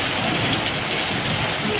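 Heavy rain pours steadily in Kaij town during a thunderstorm, a dense, loud and constant roar with a low rumble beneath and no talk.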